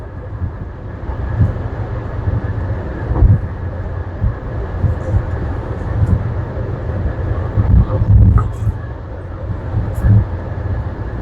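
A truck rolls along a Polish motorway, heard from inside the cab as a steady low rumble of engine and road noise, with faint knocks and rattles rising and falling throughout.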